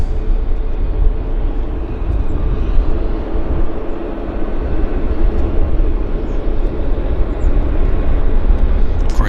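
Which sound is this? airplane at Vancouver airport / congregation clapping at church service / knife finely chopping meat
airplane at Vancouver airport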